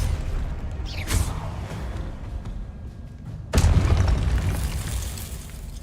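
In Hogwarts Legacy, a Confringo explosive spell goes off as a deep booming blast over a rumbling game backdrop, preceded by a smaller whooshing burst a couple of seconds earlier.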